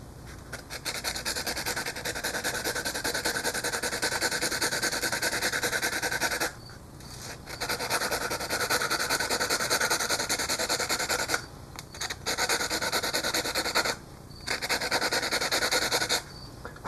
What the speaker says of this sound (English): Sand that up.